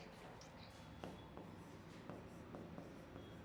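Marker or chalk strokes on a board in a chemistry classroom lesson, a run of short scratchy strokes with small taps, close and fairly quiet, with no talking.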